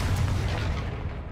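A Confringo spell cast in Hogwarts Legacy bursts into a short, deep explosive boom that rumbles and fades within about a second.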